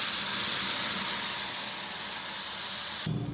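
Water poured into a hot pan of star fruit chutney with salt sets off a loud, steady steam hiss that fades slightly before cutting off.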